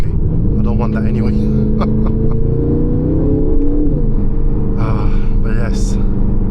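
Engine of a 2025 Aston Martin Vantage pulling hard from inside the cabin, a steady rising drone that climbs in pitch and then settles. Talk runs over it, with a few brief sharp sounds near the end.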